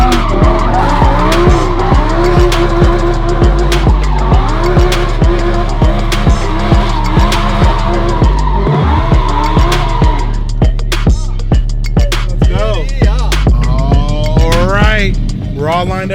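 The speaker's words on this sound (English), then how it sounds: "Hope you guys enjoyed those quick little donuts." Tires squeal loudly in long sweeping bursts as a car does donuts, its engine roaring and revving continuously, close by, with rising and falling squeals toward the end.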